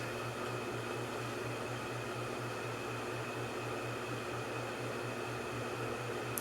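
A 1989 SMC Laguna 90 cm ceiling fan runs at low speed, a steady, soft whirring hum with a faint low tone and an even airy hiss in a quiet room.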